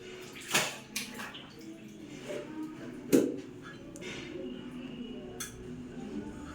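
A pair of pants is washed by hand in water. Quiet sloshing and a few distinct splashes come up close, spread unevenly over several seconds.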